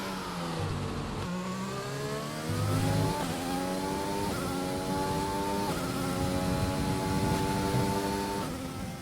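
Formula 1 car engine in the racing game F1 2020, a high-pitched whine rising steadily through the gears with several quick upshifts, loud and continuous, heard alone with no talk.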